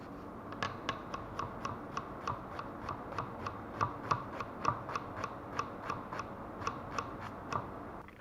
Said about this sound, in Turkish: Öncelikle soğanımızı ince ince doğruyoruz.